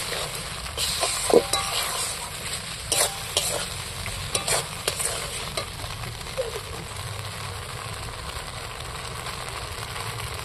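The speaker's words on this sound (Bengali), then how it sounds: "এইবার আমি এটাকে নাড়তে থাকবো।" A spatula stirs a mixture of egg, paneer and coriander with cornflour water in a pan, giving soft scraping strokes over a steady low sizzle, with a few sharper knocks early on and no talking.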